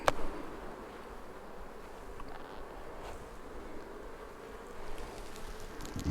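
Honey bees swarm around a hive with a hot-weather, pre-swarm buildup, a low steady buzzing drone that holds throughout, mixed with light wind noise and a few faint handling knocks near the start.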